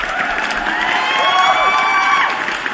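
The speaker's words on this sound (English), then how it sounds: "And that round of applause" A round-of-applause sound effect played on a live crypto news stream: a crowd cheers and claps with whoops and shrill whistle-like calls rising over the noise, steady and fairly loud throughout.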